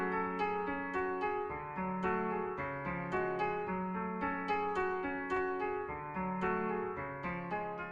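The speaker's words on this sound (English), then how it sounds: "The piano, I just started a chord progression at 110 BPM and it sounds like this." A piano plays a repeating chord progression at 110 BPM for a beat, with clear, evenly spaced chord strikes ringing and decaying under one another, close and steady with no voices.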